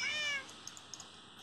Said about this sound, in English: Is it cats that are there?